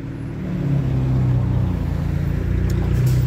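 A 2012 Dodge Charger with a V6 engine and an aftermarket exhaust from a muffler shop rumbles up over the first half-second, then holds a loud, steady, close engine drone.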